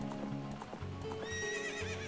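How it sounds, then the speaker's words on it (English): A horse in the video game The Legend of Zelda: Ocarina of Time whinnies and clip-clops at a gallop, steady hoofbeats running under a rising, wavering neigh, loud and close with game music behind. "this horse can be way too sensitive at times."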